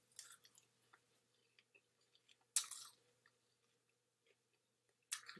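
Crunchy roasted seaweed snack with wasabi flavor, folded and chewed close to the mic: quiet, irregular crunching bites with a few louder crisp bursts and soft chewing between them, no talking.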